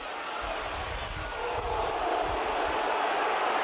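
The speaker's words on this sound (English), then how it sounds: "Last tackle, crowd roaring for a high tackle." Rugby league crowd at a Hull versus Wigan cup tie roars steadily for a high tackle, a dense continuous wall of noise with a slight swell midway, and faint commentary beneath it.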